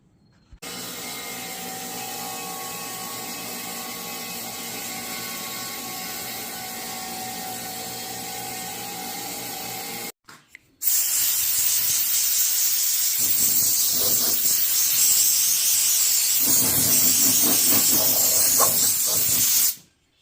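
A table saw set to 3 3/8 inches rips the rounded edge off 3.5-inch boards: a steady whining run of the blade, a short pause, then a louder, harsher cutting roar that stops abruptly.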